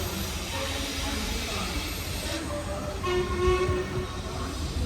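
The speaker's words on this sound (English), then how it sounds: "It is when the train departs from Reading." A passenger train pulls out of Reading station in the UK, giving a steady, close rumble with a drawn-out tonal whine or horn-like note above it, building slightly toward the end.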